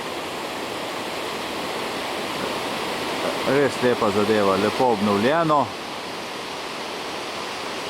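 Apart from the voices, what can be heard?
water falling over tufa at the watermills on the Pliva river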